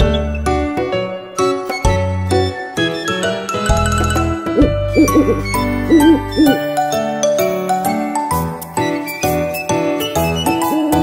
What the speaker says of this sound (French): Dans un chêne vivait un vieux hibou.